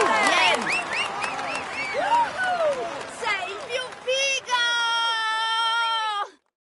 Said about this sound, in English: Come on, let's applaud him once more.